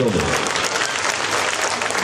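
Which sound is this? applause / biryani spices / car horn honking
applause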